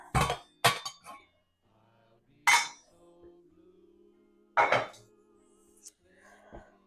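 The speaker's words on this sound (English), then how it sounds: "Let me get my pan." A pan is pulled out and handled in a home kitchen, producing a few sharp metallic clanks and clinks with quiet gaps between them, close and fairly loud.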